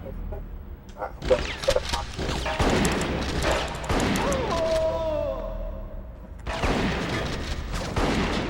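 Shotgun blasts in Bad Boys Miami Takedown land as sharp, irregular reports mixed with crashing impacts, partly under a voice, with a brief quieter stretch before more shots resume.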